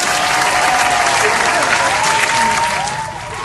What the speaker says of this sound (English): round of applause for Lauren Barrett.